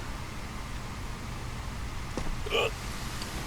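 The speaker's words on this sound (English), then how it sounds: "You've got hiccups." A patient's hiccup in the Quarantine Zone video game: one short, sharp hiccup partway through, standing clearly above a steady low background hiss.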